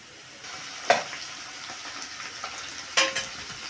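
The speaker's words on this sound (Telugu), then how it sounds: "అల్లం ఎల్లిగడ్డ పేస్ట్ బాగా వేగనియాలి." Ginger garlic paste frying in hot oil after browned onions, a steady close sizzle with two sharp spoon or pan knocks over a continuous hiss, no talk.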